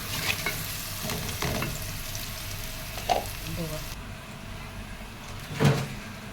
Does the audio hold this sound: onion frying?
yes